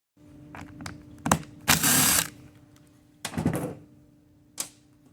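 A ratchet tightens a bolt on the turbine speed sensor of a 2011 Subaru Outback 5EAT transmission, heard as several short, close bursts of mechanical clicking separated by quiet pauses.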